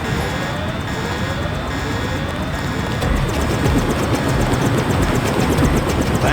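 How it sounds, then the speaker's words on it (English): A helicopter in the video game Deus Ex gives off a steady droning rotor hum and rumble, with a faint rising whine and a slight swell in loudness partway through. "Take the helicopter back to base."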